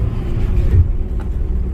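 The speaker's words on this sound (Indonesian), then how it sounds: "Saya berangkat pakai bus kecil dari kota Lijang menuju ke" Inside a small bus on a winding mountain road out of Lijiang, a continuous low engine and road rumble fills the cabin, swelling briefly with a heavier throb partway through.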